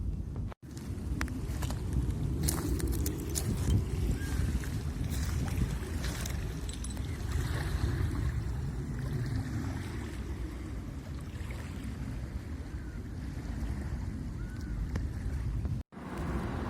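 Steady low rumble of waves and boat engines at a beach in Johor Bahru, Malaysia, a continuous wash of water and motor noise with wind buffeting the microphone, with no talking.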